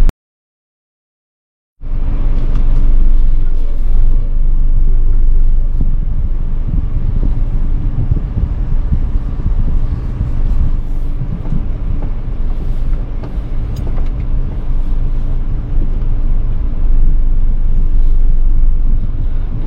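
A car drives along a street during a driving lesson, with a steady, loud rumble of engine and road noise and some wind buffeting. The noise starts abruptly after a short silence and continues without a break.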